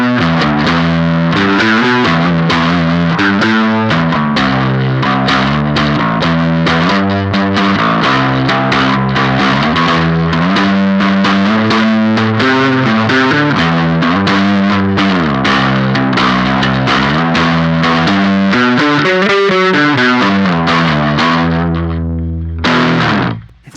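An electric guitar through a Beetronics Nectar fuzz pedal with its taste control at maximum, a loud, dense, saturated riff played steadily for about twenty seconds before cutting off at the end, no talking.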